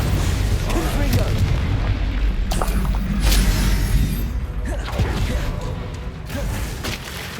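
A Confringo fire-blast spell from the Hogwarts Legacy video game erupts in loud, rumbling booms over a constant dense battle din, with several heavy impacts punctuating the roar.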